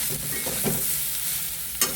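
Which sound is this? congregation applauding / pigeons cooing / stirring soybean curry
stirring soybean curry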